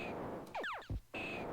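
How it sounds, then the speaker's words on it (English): Retro Space Invaders-style game effect of a missile striking an alien: a quick cluster of bright descending chirps and a short thump, set between bursts of steady electronic hiss, no voices. "And that's the sound of a missile when it hits an alien"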